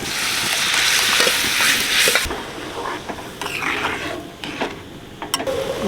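Half-boiled mung dal poured into a cooking pot, a loud sloshing, splattering pour for about two seconds followed by quieter scraping and clinking of utensils.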